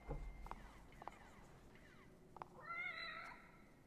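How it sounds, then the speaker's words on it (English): A cat meows several times at a save zone in the horror video game The Evil Within, small mews at first and then a longer, louder meow, all over quiet ambient game sound. "Another kitty cat save zone."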